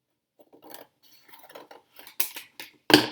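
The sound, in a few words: cutting a piece off a cardboard tunnel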